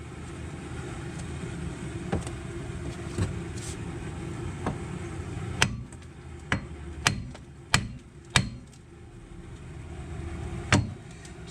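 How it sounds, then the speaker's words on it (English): Sledgehammer blows strike a Nissan Altima wheel bearing hub assembly, a few scattered knocks early then a quick run of five or six sharp, ringing metallic whacks and one last hit, over a low steady background hum. "we'll give this a couple whacks with the sledgehammer, see if we can get it to loosen up and pop off"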